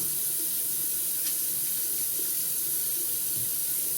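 Tap water runs continuously into a sink during hand washing, a steady broadband hiss and splash with no talk over it.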